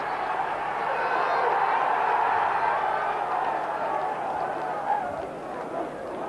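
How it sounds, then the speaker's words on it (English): A football stadium crowd at a 1991 Tottenham Hotspur match rises to its feet, a loud sustained roar of cheering and applause swelling after a near miss, then easing slightly; no clear talk over it. "the crowd on this side are on their feet applauding what they thought was a goal"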